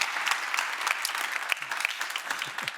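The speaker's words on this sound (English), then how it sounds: "Let's give him a big round of applause." A conference audience applauds a speaker, dense crowd clapping that stays loud and even for the whole stretch, with a few brief cheers poking through and no talking.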